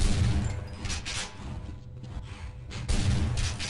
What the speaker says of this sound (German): 3 Shotgun-Schüsse und das Teil ist noch ganz.